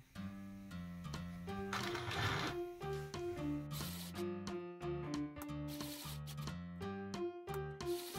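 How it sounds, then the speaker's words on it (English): A Beletops mini sewing machine stitches a fabric square, a steady mechanical whir in short stop-start runs with a clear repeating motor tone, close and alone. "And now let's sew another square."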